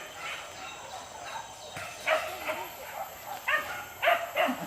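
Hunting dogs bark in short, scattered bursts outdoors during a hunt near Muaro Bodi, Sijunjung, moderately distant, with faint whimpering yelps between and a little background talk.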